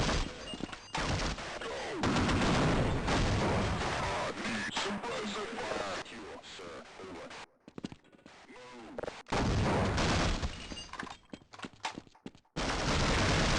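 Heavy, close automatic gunfire in the shooter Half-Life, dense rattling bursts with crashes and thuds, broken by short silent gaps, with a voice talking amid the noise.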